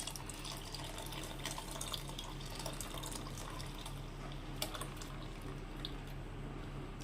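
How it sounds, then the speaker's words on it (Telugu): Watermelon juice pours into a cooking pot in a steady, continuous liquid rush, moderately quiet and without talk. "ఆపేసుకొని పుచ్చకాయ జ్యూస్ని దానిలో పోసేసుకోవడం"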